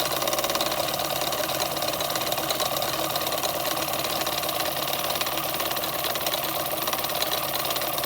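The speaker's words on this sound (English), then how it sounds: "There is no throttle on this engine. It runs one speed. Very simple engine." An Empire Number 92 engine, a simple single-acting engine with no throttle, runs at one constant speed, giving a steady, even mechanical whir and rapid knocking that holds unchanged and close for the whole stretch.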